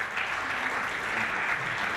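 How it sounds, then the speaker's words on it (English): Steady, dense applause from a conference audience fills the hall, an unbroken clapping wash that holds at an even level throughout, with no speech over it. "A round of applause for him again."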